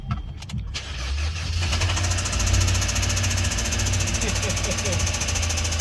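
A faulty Audi engine runs at idle with a slight misfire, a steady low rumble with a faint uneven beat that carries close and loud throughout after a brief quieter start.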